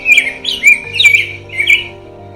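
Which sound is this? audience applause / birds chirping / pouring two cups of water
birds chirping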